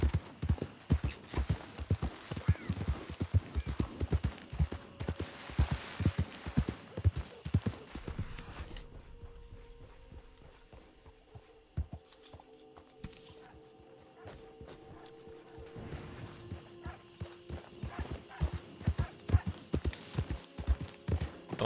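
Horse hooves clip-clop in a steady walking rhythm, close and fairly loud, easing off into a quieter stretch midway before the regular hoofbeats return.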